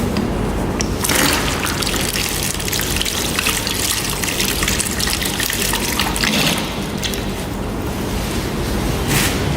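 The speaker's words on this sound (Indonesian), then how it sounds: "kemudian kita bilas" Tap water runs steadily as a pair of hands is rinsed at a sink during a handwashing routine, a continuous splashing gush close by with a brief lull near the end.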